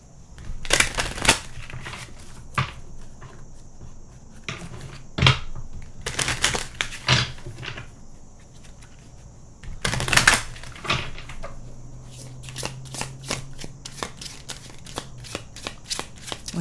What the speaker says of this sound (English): I'm going to end this reading with one more oracle card.